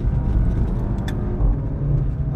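A VW Golf 7 GTI Performance with a 169 kW engine driving a twisty mountain pass, its engine a loud, steady low drone heard from inside the car.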